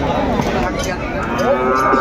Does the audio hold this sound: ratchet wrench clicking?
no